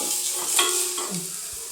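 Onions fry in a pan, a steady bright hissing sizzle with a couple of soft stirring scrapes, close and fairly loud, without any talking.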